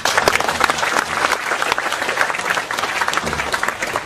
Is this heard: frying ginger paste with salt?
no